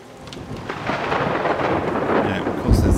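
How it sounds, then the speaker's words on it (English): A thunderstorm in Everyone's Gone to the Rapture rumbles outside: steady rain hiss builds under a low rolling thunder that swells and ends in a heavier crack. "of course there's a storm outside"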